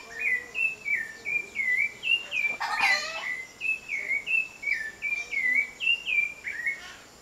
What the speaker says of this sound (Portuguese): É um dos pássaros mais bonitos que eu ouço cantar.